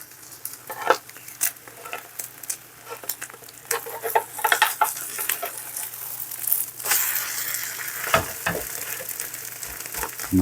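A thin egg crepe (jidan) frying in a pan gives a soft, steady sizzle with scattered light pops and scraping stirs, close-up and continuous without any voices.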